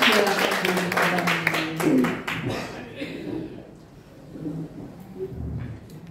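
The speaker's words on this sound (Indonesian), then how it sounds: "Ya, tepuk tangan." A group of people at a teacher-training session claps hands in a burst of rhythmic claps, then the clapping fades while people talk.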